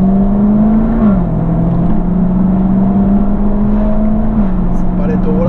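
A Range Rover SVR engine droning loudly from inside the cabin, holding a steady pitch that dips once and then rises again under acceleration, with a constant rumble of road noise.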